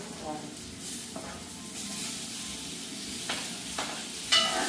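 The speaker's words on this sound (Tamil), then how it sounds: "தக்காளி பழம் போட்டு நல்லா வறண்டு வறண்டு ஒன்று ரெண்டு வதங்குவோம்" Tomatoes sauté in a pan with a soft, continuous sizzle, broken by a few light stirring scrapes and clinks close by.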